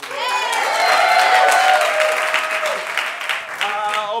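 Audience at an improv comedy show in Chicago applauding, a dense sustained wave of clapping with cheers and whoops throughout, loud and near, tapering slightly toward the end.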